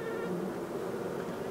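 Honey bees at a beehive buzz in a steady, dense drone, close and constant throughout with no other sounds standing out.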